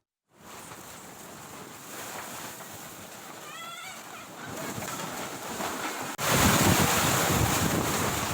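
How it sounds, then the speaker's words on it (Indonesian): Strong storm wind roars across the coast at Labuhan, Pandeglang, Banten, steady and loud without pause, rising in a sharp gust near the end with surf noise beneath. "Angin berkecepatan tinggi memporak-porandakan atap warung dan lapak sejumlah pedagang."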